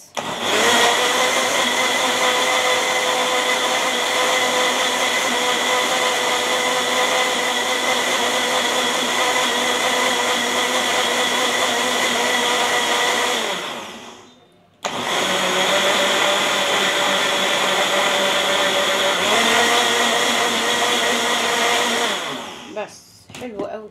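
A blender runs loudly for a long stretch with a steady whirring motor while making mango ice cream, stops briefly, then whirs again before cutting off.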